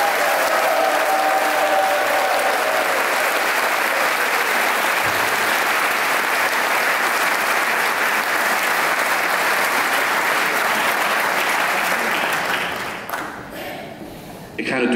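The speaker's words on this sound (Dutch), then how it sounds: "Graag een warm applaus." An audience applauds warmly after a choir's Christmas concert, a dense, sustained wash of clapping that fills the hall for about twelve seconds before thinning out as a voice begins speaking.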